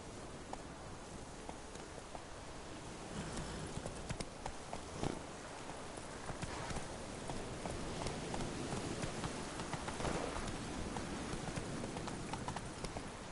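The horse Roach gallops in The Witcher 3, its hooves drumming a steady, fast clip-clop that carries loudly and continuously throughout.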